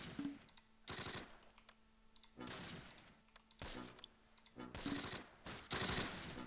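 Machine gun fire in the Close Combat WWII strategy game at Heumen Bridge, Arnhem: several sharp bursts of rapid rattling shots separated by short pauses, loud and close against a quiet background.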